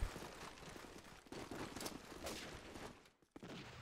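Gunfire in the Call of Duty Promod video game crackles as dense, rapid bursts of shots, fairly faint, with a brief pause near the end before firing resumes.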